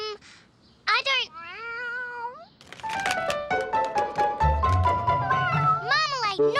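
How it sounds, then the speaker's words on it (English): A cartoon cat meows loudly several times in rising, wavering cries, with a voice and a backing music track running underneath. "That cat again?"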